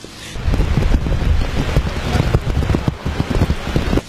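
Hurricane Matthew lashing Port-au-Prince, Haiti with heavy rain and wind: a dense, loud, continuous roar of rain pounding surfaces with gusty rumbling underneath, steady throughout.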